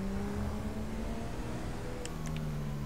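Car traffic in GTA 5 modded roleplay: a continuous, steady hum of engines and tires with a low drone and faint passing vehicles, a few brief high chirps near the end, no talk.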